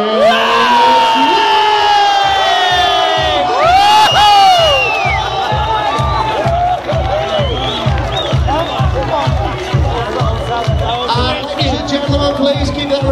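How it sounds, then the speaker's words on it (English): A loud crowd cheers and whoops at a cage fight event after a TKO, with a dense, sustained roar of voices and a steady pulsing beat beneath it. "please keep that round of applause going for our gallant runner-up this evening, Mr. Richard Tamborski"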